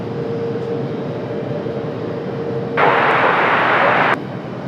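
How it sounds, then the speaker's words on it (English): An Airbus A330 airliner taking off at Raleigh-Durham airport, a broad steady roar of jet engines at a distance that swells louder for a moment. "You hear the A330 getting a move on."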